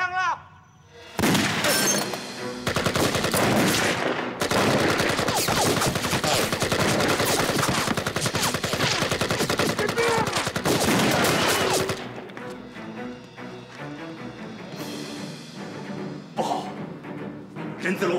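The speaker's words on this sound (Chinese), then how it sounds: "哪里打枪？" Gunfire in a war drama, dense bursts of shots and machine-gun fire, loud and near, sustained for roughly ten seconds and then easing into scattered shots and commotion with voices shouting.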